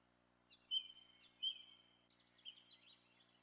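Faint birds chirp in the background of Story Hour: Adventures on the Wii (2008): a couple of thin whistled calls, then a quick run of twittering chirps over a quiet hum, with no talking.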